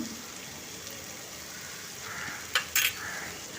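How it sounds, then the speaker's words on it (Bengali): Garlic and green chilli paste, made from five garlic cloves and two green chillies, fries in oil with a steady, quiet sizzle. Two brief louder crackles or spatters burst out near the end. "দিয়ে তেলের সঙ্গে ভালো করে মিশিয়ে কিছুক্ষণ ভেজে নেব কাঁচা গন্ধ চলে যাওয়া অবধি"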